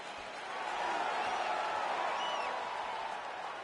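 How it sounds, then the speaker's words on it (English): Arena crowd in the UFC 4 video game cheering as a fight gets underway, a steady, loud wash of massed voices rising and holding throughout. "crowd getting excited as this fight gets underway"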